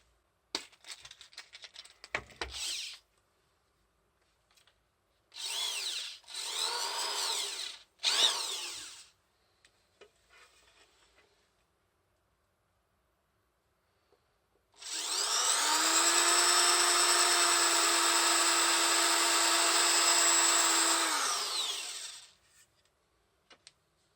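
A power drill bores a screw hole at an angle through a guitar neck into the block, in several short whirring bursts followed by one long steady run of about seven seconds, with quiet gaps between.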